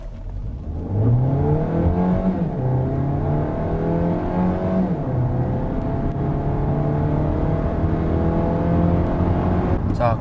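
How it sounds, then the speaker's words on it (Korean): A Hyundai Avante Hybrid with a six-speed DCT accelerates hard to 100 km/h. The engine rises in pitch through several clear gear shifts, loud and close from the cabin. "이렇게 아반떼 하이브리드 시속 100km 가속 시간과 거리 측정해 봤습니다"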